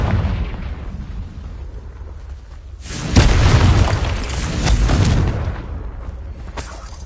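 A Confringo fire spell in the Hogwarts Legacy game on PS5 bursts into a loud booming explosion after a quieter rumble, then rolls on in a long crackling roar.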